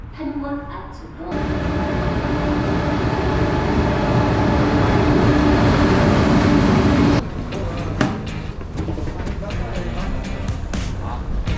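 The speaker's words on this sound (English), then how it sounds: "That's our train" A train bound for Masan and Jinju rumbles loudly through a station in South Korea with a steady roar, then settles into clattering, rhythmic wheel clicks as it rolls on.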